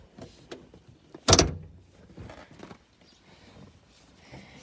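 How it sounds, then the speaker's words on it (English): The door of a 1958 Morgan 4/4 latches shut with one sharp, loud, close metallic clunk, framed by quieter rustling and small handling knocks from inside the tight cabin. "The door latches like that."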